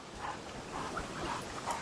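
Kangal dogs, a Turkish livestock guardian breed, give soft whimpers and yips outdoors, with short high whines scattered over a steady background rustle and no clear speech.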